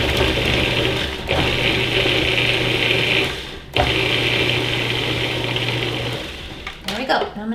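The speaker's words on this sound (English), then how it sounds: "So we put this in the processor." A food processor minces pâté ingredients with a loud, steady motor whir, briefly cutting out twice before easing off into a few rattling pulses at the end.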